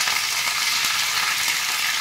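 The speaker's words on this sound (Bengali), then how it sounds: "ফটফট করে যেই শুরু করে দিয়েছে ভাজাটা, আমি একটু কারি পাতা দিয়ে দিলাম" Mustard seeds and curry leaves frying in hot oil, a dense continuous crackle and hiss held at an even level, close by and without any talking.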